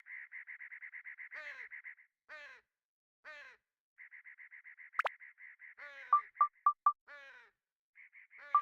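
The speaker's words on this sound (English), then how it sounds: "I wonder what kind of bird that is." Bird calls in the PS2 game Dark Cloud: repeated rapid croaking trills in bursts, rasping caws and a few sharp higher notes, clear and alone against silence.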